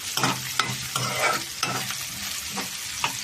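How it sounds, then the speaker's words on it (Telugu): Green chilies and onion pieces frying in hot oil for a dried-shrimp and okra tamarind stew, with a steady sizzle and repeated spoon-stirring clinks and scrapes at close range, no talking. "పచ్చిమిరపకాయలు ఇవి కూడా వేగిపోవాలి ఎర్రగా"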